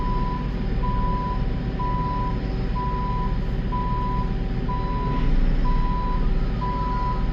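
Telehandler backing out of a shed, its reversing alarm beeping steadily at a regular pace over a continuous loud diesel engine rumble, with no talking.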